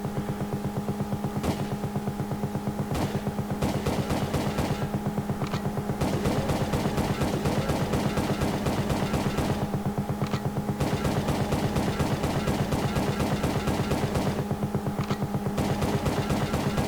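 Gunfire in the PS1 police-chase game World's Scariest Police Chases, with rapid, continuous automatic shots in long bursts separated by a few brief pauses, loud and close.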